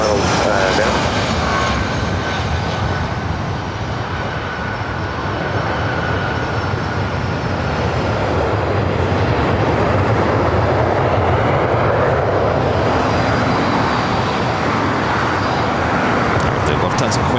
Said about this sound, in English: The Lufthansa Queen now rolling down. 25 left there on the south side